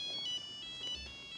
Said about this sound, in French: C'est votre téléphone?